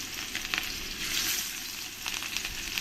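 Pieces of katla fish, rubbed with salt and turmeric, fry in hot mustard oil with a continuous close sizzle and crackle, swelling now and then as a piece is added.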